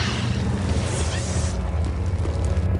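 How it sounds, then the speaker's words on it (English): Explosion in the game Star Wars Jedi Academy, a loud, heavy boom with a rumbling low-end tail that fades out over a couple of seconds. "early 2000s explosion technology"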